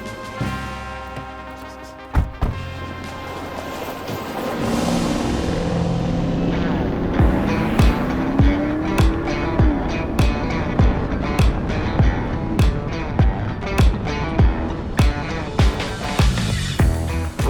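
A restored Porsche Cayenne pulls away, its engine noise building steadily and rising in pitch as it accelerates. A regular, loud percussive beat runs over it for most of the drive.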